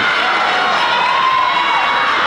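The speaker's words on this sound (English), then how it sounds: "Big cheer for Braden Clark, the five-nine junior, number two" Crowd at a high school basketball game between Highlands and Freeport cheers for a player, a steady broad roar of many voices sustained throughout, fairly loud with no single voice standing out.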